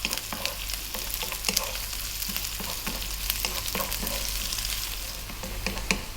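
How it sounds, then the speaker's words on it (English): Chopped onion and chili frying in a pan over medium heat for a chicken curry, a continuous soft sizzle with occasional scraping stir sounds, close and steady with no talking. "we're going to go in with the onion and the chili. Medium heat, about 4 minutes."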